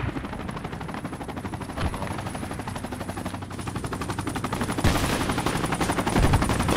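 Sustained machine-gun and rifle fire from a Project Reality firefight with an iron-sight AK, rapid bursts crackling continuously and growing louder toward the end, with a helicopter drone faintly underneath.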